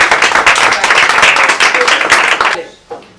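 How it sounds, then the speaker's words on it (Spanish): An audience claps at an event presenting short films by young Asturian filmmakers, dense applause filling the room for a few seconds before cutting off to near silence. "Un aplauso para el que sabe andar con el cronómetro."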